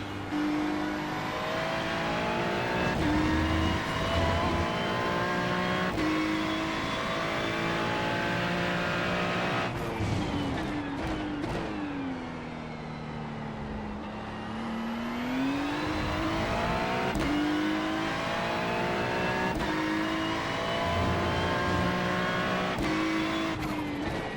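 A GT3 race car on the Algarve circuit in a racing game revs and shifts through gears, its engine pitch climbing and dropping repeatedly, loud and continuous with brief tire noise.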